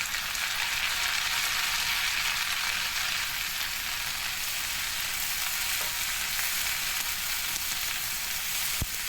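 Curry leaves and chopped tomatoes sizzle in a pan for chutney, a dense, even hiss close by that continues without pause, with no voices.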